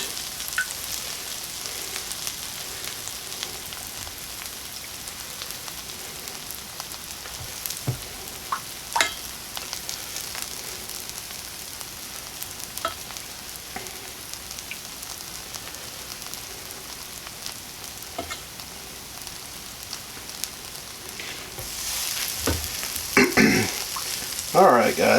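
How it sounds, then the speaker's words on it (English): Buns toasting in a hot pan for pizza chicken sandwiches, a soft, steady sizzle and crackle with occasional louder pops and a short burst of scraping near the end. "let's let these buns toast for a little bit"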